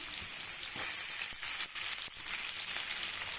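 Onions fry in hot tempering oil in a pan, giving a steady close sizzle with crackly bursts throughout.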